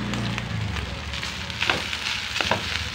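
Rice frying in a pan with leftover fried chicken and longganisa, a steady close sizzle with crackling pops and occasional scraping stirs throughout.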